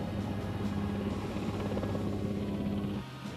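Military helicopters fly over as part of a large fleet backing the American 18th Airborne Corps crossing into Iraq in the Gulf War, giving a loud, steady rotor drone that holds throughout and eases slightly at the very end.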